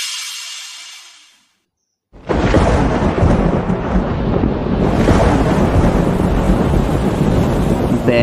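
A thunder clap in a rainstorm breaks after a brief hush into a loud, sustained roaring rumble that swells again midway and continues to the end, close and dense, with no voices.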